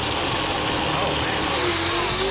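A yellow Corvette engine roars at a drag strip in Roswell, New Mexico, loud and steady with a rising rev toward the end, with voices faintly underneath.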